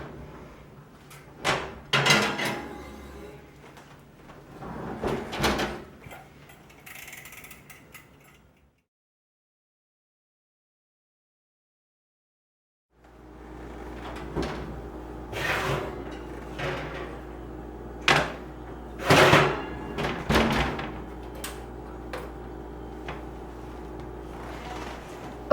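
An oven door opens and shuts as a pan of stuffed peppers goes in: a series of close clunks, rattles and knocks, then a stretch of silence and more handling thumps and clanks.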